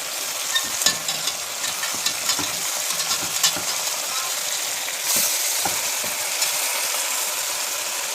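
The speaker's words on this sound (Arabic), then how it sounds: "اخدت لون نبتدي نقلبها مع بعض على الناحيه التانيه" Chicken pieces sizzle steadily in hot oil in a pot for a Saudi kabsa, with scraping stirs and clinks as they are flipped, loud and continuous with no talk.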